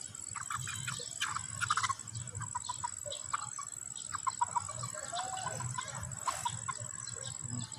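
Chickens cluck in short, scattered bursts close by, with occasional louder squawks over a quiet outdoor background of faint insect buzz and a steady high tone.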